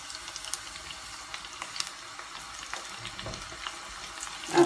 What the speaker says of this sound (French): نديرهم يتقلاو، يكون الزيت سخون.